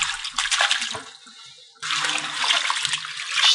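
Greens being swished and washed in a large bowl of lime water, a continuous splashing, sloshing water sound with a brief quieter dip midway.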